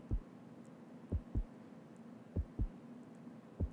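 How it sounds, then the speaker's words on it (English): A heartbeat sound effect from a Jackbox party game thumps in soft paired beats, three double pulses spread evenly over a low steady hum, with no talking. "Do you guys hear that? There's a heartbeat."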